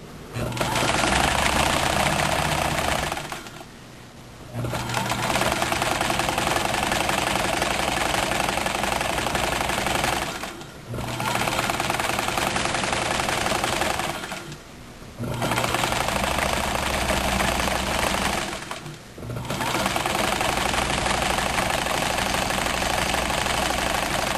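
A sewing machine stitches a t-shirt hem with a small stitch length, loud continuous mechanical whirring in long runs broken by four brief pauses.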